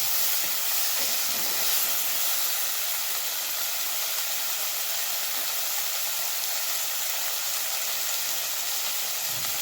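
A loud, constant broad hiss of onions and tomatoes sautéing in a pan for crab curry, close and unbroken, with no voices.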